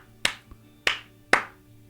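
Three sharp finger snaps or hand claps in a quiet room, each a crisp isolated crack with a short decay, set to trigger live audio analysis in show-control software.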